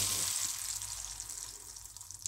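Whole spices are tempered in hot oil for a Bengali fish-head kalia, giving a steady crackling sizzle with fine spluttering pops that stay close and moderately loud before easing slightly.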